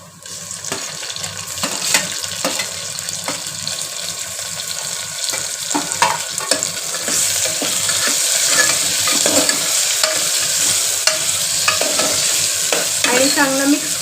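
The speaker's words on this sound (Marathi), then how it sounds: "आपण याला चांगलं मिक्स करून घेतोय। आता आपण यात टोमॅटो टाकून घेऊया।" Tomatoes stirred into dal khichdi frying in a pan produce continuous sizzling with repeated scraping strokes of a spoon, growing louder and denser in the second half, close by and with no voices.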